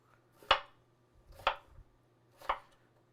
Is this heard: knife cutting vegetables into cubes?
yes